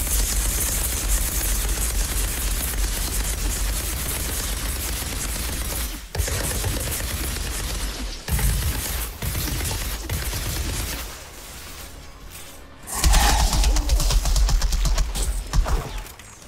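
Sniper shots and gunfire in the video game Outriders: dense, sustained automatic fire with sharp cracks, briefly broken by short gaps, then a louder, heavier burst near the end.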